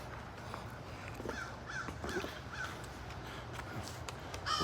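Crows caw repeatedly outside a post office, a series of harsh calls at moderate distance over steady ambient noise, with no talking.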